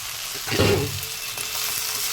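Chow mein noodles dropped into a hot pan at home, a brief louder burst of frying followed by a steady, close sizzle that carries on alone.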